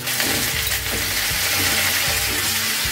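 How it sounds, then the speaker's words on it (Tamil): Eggplant frying with onions in hot oil in a pan, a steady close sizzle with bursts of crackling and scraping stirring throughout, without talk. "வெங்காயம் பாதி வதங்கினதும் நம்ம வெட்டி வச்சுருக்கிற இந்த கத்திரிக்காயை அதில் சேர்த்துக்கலாம்"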